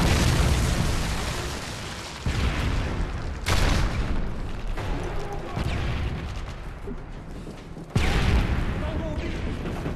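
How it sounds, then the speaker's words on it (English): A Predator missile strike in a Call of Duty-style video game, heavy booming blasts that hit several times at uneven intervals and then roll away, loud and close. "Friendly Predator missile inbound."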